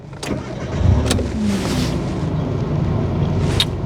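A Mitsubishi with a 1.5-litre four-cylinder engine and automatic gearbox cranks with a few starter bursts, then catches and settles into a steady running rumble close by.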